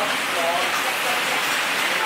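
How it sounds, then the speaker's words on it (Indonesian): Heavy rain pours steadily outside a restaurant, a dense, even hiss that stays constant from start to finish with no other sounds rising above it. "hujan di luar sangat deras"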